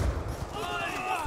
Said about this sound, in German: Überall explodiert.